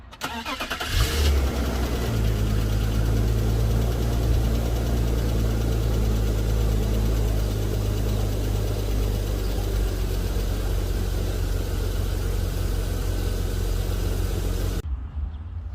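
A BMW E36 engine cranks over and catches, then settles into a steady, close-up idle with a deep low rumble that runs unbroken until it cuts off abruptly near the end.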